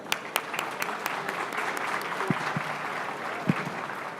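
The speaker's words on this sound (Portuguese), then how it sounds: "E vamos receber nossos 2 convidados com carinho do nosso aplauso." Audience applause at a business panel event welcoming two guests, a steady moderate wash of clapping from a seated crowd, with a few louder claps standing out.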